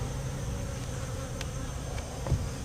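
Honey bees from a queenright colony hum steadily around an open hive box during an inspection, a low continuous buzz with occasional brief higher whines of individual bees passing close, one louder bump near the end.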